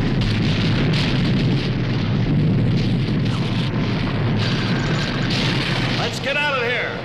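A cartoon castle collapses in a long, dense rumbling roar of crumbling debris and blasts that stays loud throughout, with a voice briefly heard over the tumult near the end.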